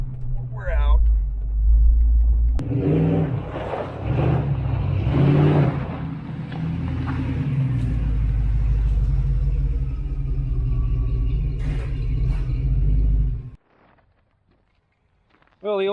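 An old pickup truck rumbles along a road with a low, steady engine drone close by, someone talking over it, before the sound cuts out near the end.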